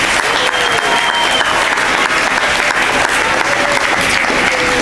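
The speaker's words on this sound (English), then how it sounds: "Give me an applause for that." Steady applause fills a hall at a school awards ceremony, many hands clapping together at a constant loud level for the whole stretch, with no voices rising above it.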